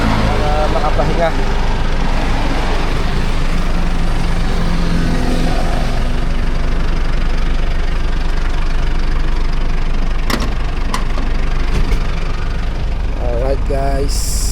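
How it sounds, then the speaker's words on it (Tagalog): A vehicle engine idles steadily throughout, a continuous low rumble with occasional brief clanks and sounds nearby. "Hindi ko napapatay ng makina"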